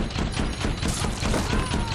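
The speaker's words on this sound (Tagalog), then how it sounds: "ginamit ito para ratratin ng mga bala ang mga kalaban" Rapid rifle fire from a film battle, a dense, continuous fusillade of loud overlapping shots with booming impacts throughout, no clear gaps between bursts.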